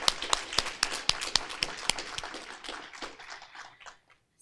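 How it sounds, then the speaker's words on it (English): Banquet audience at a teacher of the year celebration clapping for the finalists, a thin scattering of sharp hand claps that thins out and fades to quiet. "we want to give you a round of applause as well"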